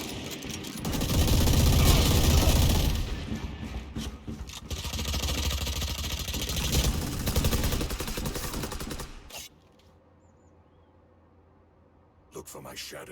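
Sustained LMG fire in the video game Valorant, a loud, rapid stream of shots lasting several seconds under a person talking, then dropping to near silence before a brief return of noise at the end.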